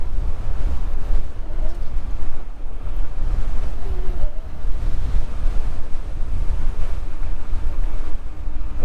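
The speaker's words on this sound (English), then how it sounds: "So I'm kind of going straight into a wind right here." Heavy wind buffets the microphone while riding a ZOOZ UU1100 electric bike straight into a headwind, a loud, continuous rumbling roar with gusty surges throughout.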